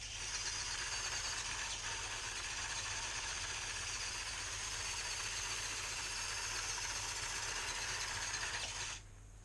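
The small electric motor of an FTX Mini 1/24 RC crawler whines steadily and close as it climbs a plywood ramp, a continuous high buzz that cuts off at the end.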